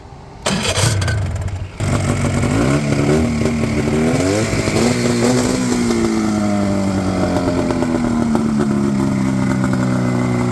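A 1989 Honda Pilot ATV fitted with a 120 hp snowmobile engine cranks and catches, then settles into a loud, steady running idle with its engine pitch gradually dropping, close up with no talking.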